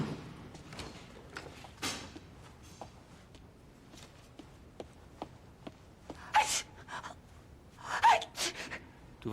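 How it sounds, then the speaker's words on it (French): A person sneezes a couple of times in a quiet indoor room, short sharp bursts near the end, with soft breathing and small movement noises between them. "Je me demande pourquoi j'éternue."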